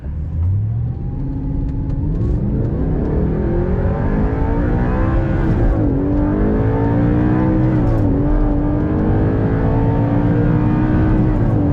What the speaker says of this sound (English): so let's get this vehicle going